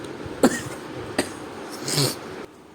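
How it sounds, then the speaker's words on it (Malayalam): A few short, sharp coughs with brief pauses between them, fairly close and fairly loud, with no talking around them. "ജലദോഷം ചുമയുണ്ട്"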